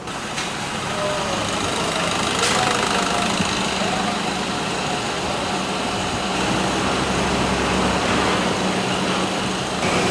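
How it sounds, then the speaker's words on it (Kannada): A motorbike engine runs at a steady idle while connected to a pipe from an oxy-hydrogen carbon-cleaning machine, giving a loud, continuous, even rumble without a break. "ಇದು ಗಾಡಿದ ಇಂಜಿನ್ ಸ್ಟಾರ್ಟ್ ಮಾಡ್ತೀರಿ"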